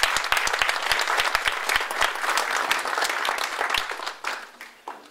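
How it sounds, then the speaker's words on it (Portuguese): Audience applause welcoming a speaker at an evening financial-motivation event, loud and fairly dense with distinct individual claps audible, holding steady before fading out over the last second. "uma salva de palmas para ele"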